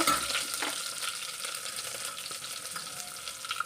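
Green chillies sizzle and crackle steadily in hot oil in a home kitchen pan for a lentil and rice khichdi, a continuous bright frying hiss with no talking.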